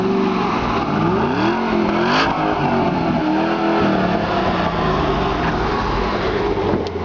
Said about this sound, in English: It's like a brand new car, and we're going to take it for a spin.